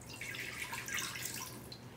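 Water is poured into the bottom of a pressure cooker fitted with a mesh insert, giving a quiet, trickling splash that runs on steadily for a couple of seconds with no voices over it.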